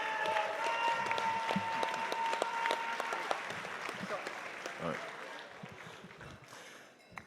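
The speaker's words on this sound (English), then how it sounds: "If you would give him a welcoming round of applause." An audience at a national convention opening session applauds to welcome a speaker to the stage, sustained clapping from a large crowd that gradually fades, with voices mixed in.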